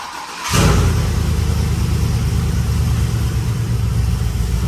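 A Yukon Denali's LQ4 V8 with an LS3-style top end and a brand-new exhaust fires up for the first time, jumping from near quiet into a loud, steady, deep exhaust roar close by that holds without letup.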